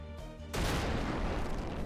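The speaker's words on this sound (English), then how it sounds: "I wasn't expecting that loud explosion." A loud explosion bursts in during a Final Fantasy XI cutscene with fighting inside a city, cutting off a quieter tonal passage and leaving a dense, sustained roar of blast and rumble.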